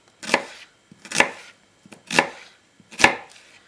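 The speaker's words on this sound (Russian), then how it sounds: "Берем среднюю головку лука и нарезаем его" A knife chops through a medium onion on a cutting board, cutting it into half rings and cubes for a pizza topping. Four distinct, crisp chops come at an even pace, close and clear, with no talking.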